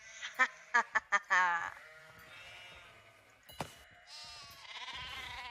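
Sheep in the Nancy Drew: The Haunting of Castle Malloy video game give a quick run of short, loud bleats, then a quieter, drawn-out bleat over soft game ambience.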